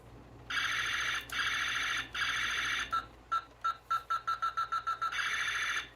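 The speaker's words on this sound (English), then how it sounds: "now I'll show you the laser" A talking Toy Story 3 Buzz Lightyear toy's electronic laser effect: several long buzzing blasts, then a rapid series of short beeping pulses, ending in another sustained buzz, loud and close.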